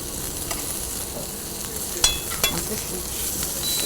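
Vegetables sizzle steadily in a hot pan, a continuous crackling hiss with a few brief clinks or stirring knocks, close and fairly loud, no talking.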